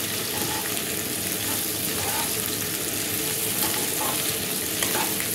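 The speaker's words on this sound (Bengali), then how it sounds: "ভাজবো ভালো করে, ভাজার পর তারপরে আমি মশলা দেব" Prawns marinated in salt and turmeric fry with onion in a pan, a continuous close sizzle with occasional stirring scrapes, steady and fairly loud with no talking.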